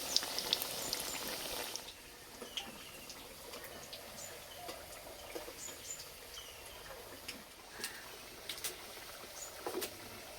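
Potato snack frying in hot oil, a steady soft crackle and patter of sizzling throughout with small pops, close and fairly quiet, with no talking.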